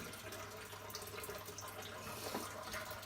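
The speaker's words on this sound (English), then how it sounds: "So I suppose for showing purposes, that's how much the pump puts out." Water pumped up from an aquarium sump through a Purigen fluidised reactor, a steady, continuous rush and trickle of flowing water, close and even throughout with no talking.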